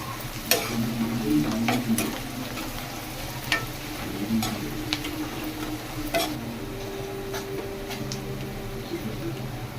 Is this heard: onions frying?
yes